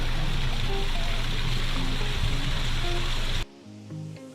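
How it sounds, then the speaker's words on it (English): Shoshone Falls pours as a loud, steady wash of rushing water heard close, a dense unbroken roar that cuts off abruptly near the end, leaving quieter ambience. "past waterfalls"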